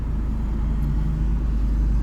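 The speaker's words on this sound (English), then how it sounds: "okay, back driving again." A car driving, heard from inside as a steady low engine and road rumble with no speech and no change in level.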